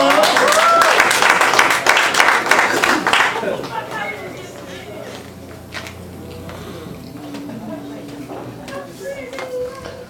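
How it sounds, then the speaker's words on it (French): Audience applause at a nightclub comedy event, loud dense clapping for the first three seconds, then fading into crowd chatter and murmur with scattered sounds. "Et je vous demande d'applaudir très fort."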